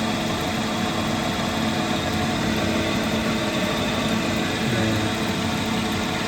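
Continuous grinding drone of a lapidary machine's 220-grit textured wheel shaping a stone cabochon dome, a steady dense hum with water-fed rasp and no pauses, heard close and alone.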